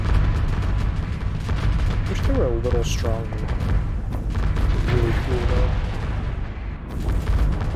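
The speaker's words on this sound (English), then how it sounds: "So many explosions, much debris everywhere." Explosions in the space combat game Starsector, a dense continuous barrage of booms and blasts with debris, loud throughout, while someone talks over it.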